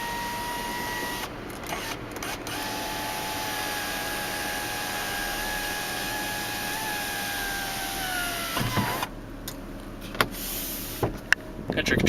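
Power sunroof motor on a 2008 Hummer H2 Southern Comfort running, a steady electric whine that holds for several seconds before stopping with a clunk, followed by faint cabin clicks and handling noise.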